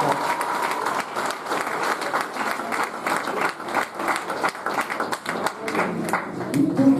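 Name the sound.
audience applause at an awards night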